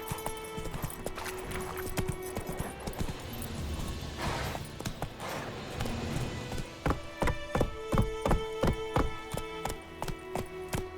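In The Witcher 3: Wild Hunt, a horse's hooves clip-clop in a steady trotting rhythm, growing more distinct toward the end, amid the game's background sound.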